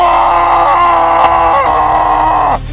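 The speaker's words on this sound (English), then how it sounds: "What is this, a scream?" A loud, sustained scream from a German audio drama about a cursed ship, treasure and a comet night, holding steady for over two seconds before cutting off abruptly.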